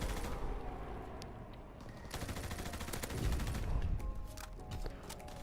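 Sustained automatic weapon fire in Call of Duty WWII, a dense rapid stream of shots lasting several seconds, loud and continuous with mechanical clatter.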